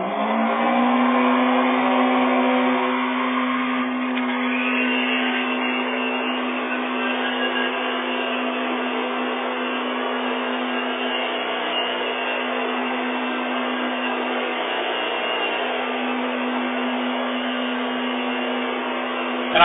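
A Lux Epic 8000 vacuum cleaner with a worn, faulty motor runs at full speed, giving a loud, steady droning whine with a strong hum that holds unbroken throughout, with no voices.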